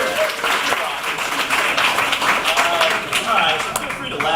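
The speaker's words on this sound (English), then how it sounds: "round of applause for the N400" Audience applause in a comedy show, dense clapping filling the space at fairly close range, with a murmur of voices underneath and no clear break.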